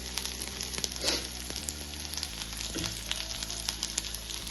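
Paneer chilli sizzles hard in a pan over high flame with tomato sauce, a steady close crackling fry with small stirring scrapes, a brief louder burst near the start and no talking.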